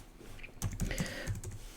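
Shell commands are typed on an English-layout keyboard during a FreeBSD installation. After a quiet moment comes a quick, steady run of close keystrokes.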